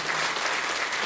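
An audience at a school concert claps for the performing children, a dense, loud, even burst of applause heard up close.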